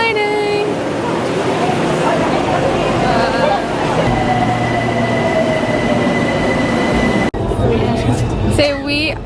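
Riding the Bangkok SkyTrain, with a loud, steady rumble of the moving carriage and occasional wheel squeal, while passengers talk throughout and a brief cut near the end.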